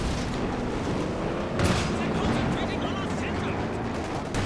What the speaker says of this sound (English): Oh, big tulip rockets.